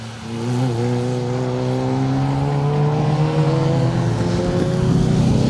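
Rally cars on a stage, a Ford Fiesta being passed by a Subaru Impreza, engines droning close by with pitch sliding as they go past, loud and continuous.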